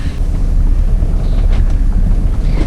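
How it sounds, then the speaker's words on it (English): Heavy wind buffets the microphone with a constant low roar, while strong waves slosh and churn against a boat hull close by in the Great Sandy Strait. "the fact that it's like really windy today and the waves are really strong"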